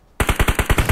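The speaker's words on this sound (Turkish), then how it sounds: "Aracı tarıyorum da." Rapid automatic gunfire in PUBG Mobile sprays a vehicle: about eight loud, evenly spaced shots in under a second, close and alone.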